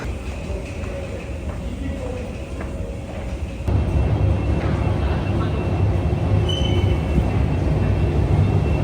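A train pulls into a Paris station with a loud rumble that jumps up midway, then thick wheel and carriage noise with a faint squeal, heard close by.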